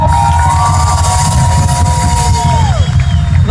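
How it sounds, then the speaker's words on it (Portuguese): A concert crowd cheers and whoops loudly for dancers on stage with a pop band, a continuous roar of voices with a sustained high tone over it, heard close and full. "Palmas para as gurias,"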